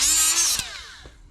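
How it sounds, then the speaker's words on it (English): A power sander whines at high pitch as it grinds spray paint residue off a car part during a CRX H2B engine swap, then spins down and fades within about a second. "so I'm just sanding a little bit off of it"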